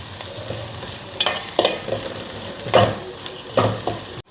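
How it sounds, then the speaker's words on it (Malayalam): Sliced bitter gourd sautés in oil in a pan for a carrot, bitter gourd and green mango pickle, with a steady sizzle under repeated scraping strokes of a stirring spoon, close and fairly loud. "അപ്പോൾ പാവയ്ക്കൊക്കെ നന്നായിട്ടൊന്ന് വഴറ്റിയെടുത്തിട്ടുണ്ട്"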